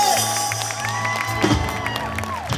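An outdoor crowd in Piazza Manzoni, Jesolo, applauds and cheers for pianist Pablo, with scattered clapping, whoops and voices mixed together under a lingering sustained tone.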